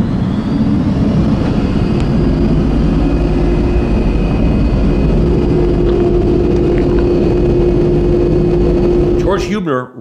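A turbine-powered car engine runs with a continuous, steady whine and a deep rumbling drone, loud and unbroken for about nine seconds before a brief warbling shift at the very end.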